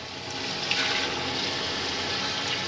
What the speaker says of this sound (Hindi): अब ये थोड़ा सा मैं पानी डाल रहा हूँ